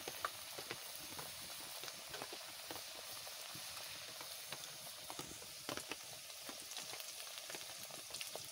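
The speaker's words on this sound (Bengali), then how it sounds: "তেল গরম হয়ে গেছে, তেলের পরে ছেড়ে দিচ্ছি।" Bhujiya batter sizzles steadily in hot oil, a soft, even frying hiss with small pops and crackles running throughout, close by and quiet, with no talking.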